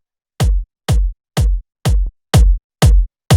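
A tech house kick drum without saturation, seven punchy, deep, evenly spaced thumps at a steady four-on-the-floor pace, loud and dry with nothing else playing.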